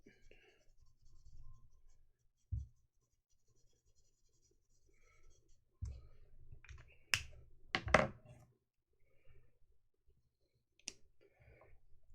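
A Master's Touch marker drawn across paper makes quiet, scattered scratchy strokes, some brief taps and a few longer swipes, with stretches of near silence between them.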